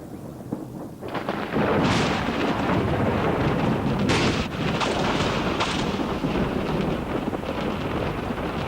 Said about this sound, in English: The hills echo the approaching storm